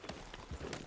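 Horse hooves clip-clop in Red Dead Redemption 2 gameplay, a brief run of soft, moderately loud hoofbeats at a gallop-like rhythm with faint game ambience behind.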